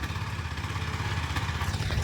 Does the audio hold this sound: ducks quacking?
no